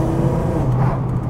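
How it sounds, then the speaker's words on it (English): Close-up engine note of a Volkswagen Golf Mk5 R32 with a DSG gearbox and loud exhaust, blipping on a paddle-shift downshift into second gear, a brief steady rev swell heard from inside the car with no talk. "So just flick the pedal and we drop down like we're in second gear there"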